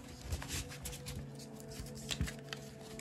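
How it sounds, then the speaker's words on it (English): A Rider-Waite tarot deck is shuffled by hand, with soft papery riffles and card slaps in quick, irregular bursts, close and quiet. "It's a handy-dandy shuffle right here to the side."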